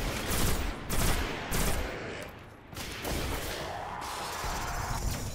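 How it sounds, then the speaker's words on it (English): Bursts of gunfire and blasts in the video game Destiny, including a grenade explosion, arrive as loud, rapid, overlapping booms and crackles over a few seconds. "that grenade's quite cool"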